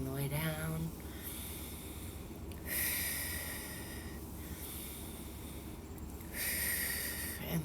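Slow, deep breaths drawn in and pushed out during shoulder rolls, with three broad airy swells that rise and fall at a steady, unhurried pace and stay close to the mic.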